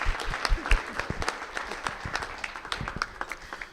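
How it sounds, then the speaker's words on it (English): A crowd applauds for the village manager and assistant village manager at a Village of Martin's Additions 40th anniversary gathering, steady dense clapping with sharp individual claps near the front, fading slightly toward the end. "How about another round of applause for our very hardworking, dedicated village manager and assistant village manager"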